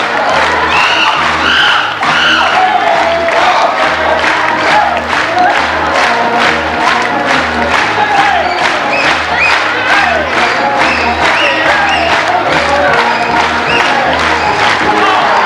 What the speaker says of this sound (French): Et tout le monde tape dans les mains.